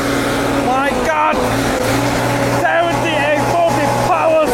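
A fully reconditioned Ford 7840 Power Star tractor engine runs with a steady low drone throughout, while people talk over it.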